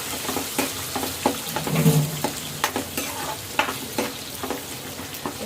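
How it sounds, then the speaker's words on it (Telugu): Eggs sizzle in a pan of oil with curry leaves while a spoon stirs and scrapes in quick, irregular strokes; the frying is steady and close, with no talking. "ఇదిగో ఎగ్ అయితే వేసాను కదా, ఇలా అయినప్పుడు ఇలా ఫ్రై చేసేసుకోవాలండి"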